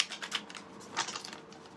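Tarot cards riffle and slap together in a quick shuffle close to the microphone, giving soft papery flutters in uneven bursts with no voice over them.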